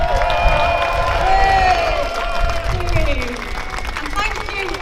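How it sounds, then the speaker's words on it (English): An outdoor protest crowd in Sheffield applauds and cheers in the rain, loud and close, with whoops and raised voices carrying over the continuous clapping. "just one big round of applause for everyone that's just spoken so far"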